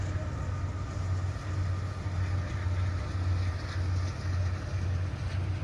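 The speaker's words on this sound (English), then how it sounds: "I didn't even see the train" A train passing near an outdoor disc golf course makes a steady, continuous low rumble that holds evenly throughout, with no voices over it.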